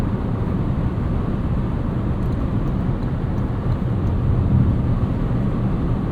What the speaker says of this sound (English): There's a little bit of wind noise here at speed.